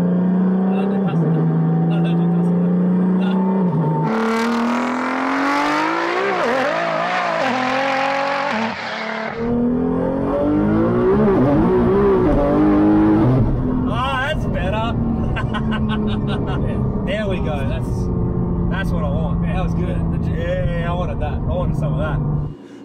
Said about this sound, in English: So I just drove Brendan's R35 Godzilla